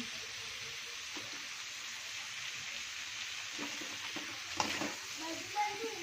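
Steady sizzling of jengkol beans frying in hot oil, with a few soft stirring clatters near the end and no talking.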